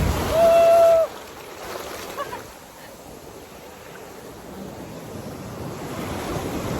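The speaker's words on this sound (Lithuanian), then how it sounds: "Ir vis tiek bangutės yra." Broadband wash of sea surf rolling in and out around knee-deep water, close and steady, with wind buffeting the microphone; a short high tone sounds near the start.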